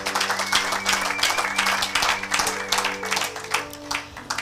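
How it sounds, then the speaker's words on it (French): Congregation clapping together at a church service, a continuous rhythmic applause over held keyboard tones, loud and close throughout. "Acclamez pour la gloire de notre Dieu."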